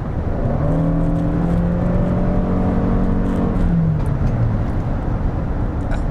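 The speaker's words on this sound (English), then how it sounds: "I can hear the four-cylinder engine, but it feels like it's pulling me much harder than a four-cylinder engine." A 2021 Toyota Sienna Limited's four-cylinder engine accelerates hard in sport mode, a steady loud droning hum that climbs in pitch for about four seconds, then eases off and drops lower, heard from inside the cabin with no talking.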